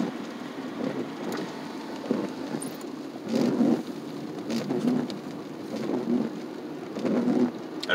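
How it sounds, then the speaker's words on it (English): Heavy rain pelts a car windshield in Oklahoma City, a dense steady hiss with low rumbling swells like distant thunder that rise and fall every second or so. "With the rain on the windshield"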